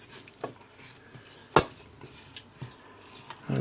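Ingredients for carac being mixed in a pot on the stove, scattered clinks and scrapes of a utensil against the pot with one sharper knock, close and quiet with no talking.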